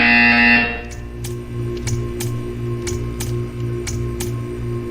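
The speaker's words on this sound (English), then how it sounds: "You will hear a buzzer." A Portal 2 test-chamber buzzer sounds as a steady series of short, sharp electronic pulses at an even rhythm over a low humming drone, clear and alone with no talking.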